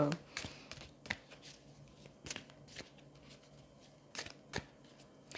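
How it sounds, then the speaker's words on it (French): Cards are handled and drawn from a deck at close range in a quiet room, giving several brief crisp snaps and shuffles at irregular intervals. "Je vais aller prendre une deuxième carte, du coup."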